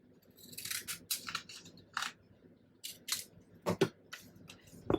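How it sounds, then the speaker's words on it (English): Scissors snip along the edge of a handmade paper journal in a quick series of close, crisp cuts, some paired and some spaced apart, in an otherwise quiet room. "Now I'm going to trim the edge here."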